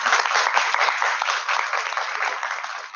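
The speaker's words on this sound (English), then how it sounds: "I think that deserves a round of applause" Steady, dense audience applause fills a congress hall at the 75th IVSA Congress in Nepal, loud and continuous for a few seconds with no talk over it.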